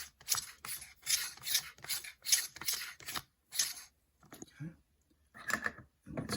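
A Normcore gravity coffee distributor spins and scrapes through espresso grounds in a series of short, raspy strokes, close and fairly quiet, with brief pauses between them and a soft voice near the end.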